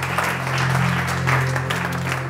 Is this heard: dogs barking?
no